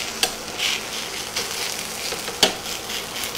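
Hash browns fry in a pan with a steady close sizzle, while a metal spatula pats them down in two sharp taps about two seconds apart.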